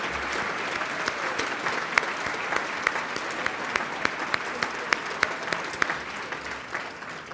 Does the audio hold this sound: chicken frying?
no